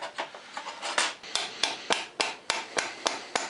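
Light metal taps on a long bolt being driven out of a Suzuki GS850 motorcycle, about a dozen short, close clinks in an uneven rhythm.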